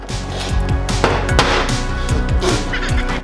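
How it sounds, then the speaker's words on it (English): Hammer blows strike a pushed-in car wing on a crashed Nissan Micra, with several sharp metallic knocks at irregular intervals, loud and close over background noise. "I had to hammer it out so I can get my ratchet in there"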